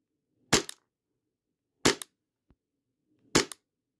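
An AAP01 gas airsoft pistol fires BBs in three sharp, close pops spaced about a second and a half apart, with a faint tick between shots and silence otherwise.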